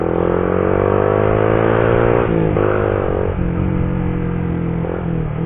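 Motorcycle engine running smoothly and steadily after being refuelled on a toll road in Amuntai, loud and close, with a sustained throttle tone that dips briefly and shifts pitch midway.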